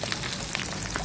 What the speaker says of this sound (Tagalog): habang piniprito ito sa kabila.